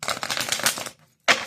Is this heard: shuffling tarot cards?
yes